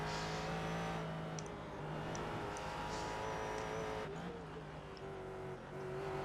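A prototype race car's engine sounds throughout a racing video game, a steady high engine whine with gear changes and faint tire squeal, continuous and fairly quiet.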